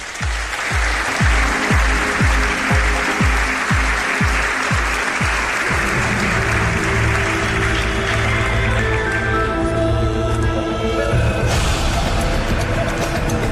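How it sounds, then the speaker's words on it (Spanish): Loud theatre audience applause fills the space, dense and sustained, with a rhythmic thumping beat underneath at first that gives way to music swelling in as the clapping carries on. "Un aplauso os pido para él."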